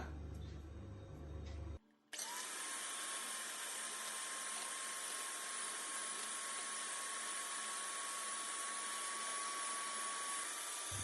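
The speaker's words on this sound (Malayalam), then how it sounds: "ഇനി വിപ്പിംഗ് ക്രീം ബീറ്റ് ചെയ്തെടുക്കണം." An electric hand mixer whips 250 ml of freezer-chilled whipping cream in a bowl, a loud, steady motor whine with a high, even tone running continuously after a short break, with no talking.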